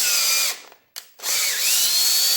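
A power drill running a tap into a worn hole on a 1948 Ford 8N tractor axle whines loudly up close, cuts out briefly with a short burst in between, then spins back up and runs steadily.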